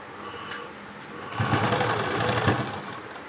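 A sewing machine stitches a lace strip onto the hem of a pair of trousers, the stitching line run over an existing seam. The motor hums steadily and close up, with a busier burst of stitching in the middle.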